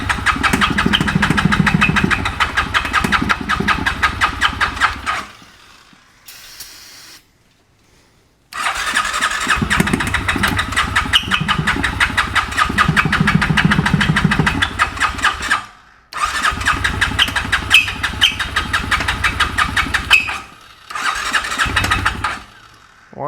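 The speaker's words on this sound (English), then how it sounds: "Why is the engine making crazy squealing noises?" A cheaply bought used dirt bike engine cranks and starts, running loud and close with a buzzy idle that cuts out briefly several times before revving back up, with squealing noises.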